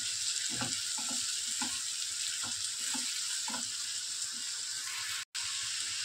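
Ginger, garlic and coconut paste fries with sautéed onion in a pan, giving a steady, close sizzle broken by rhythmic stirring scrapes.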